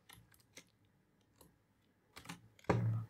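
Keystrokes on a computer keyboard while writing Python code, coming in irregular short bursts of clicks with a louder cluster of taps near the end, close and alone without talk.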